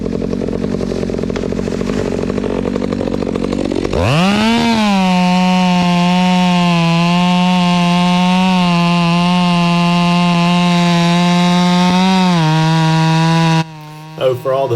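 A chainsaw felling trees in a tight, confined area starts up partway through, then holds a loud, steady, close-up engine drone for about nine seconds before easing back toward idle near the end.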